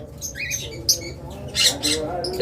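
A female pet bird, a lovebird, cockatiel or budgie, lets out several sharp, close squawks and chirps in irregular bursts, with faint background chatter and cage noise underneath.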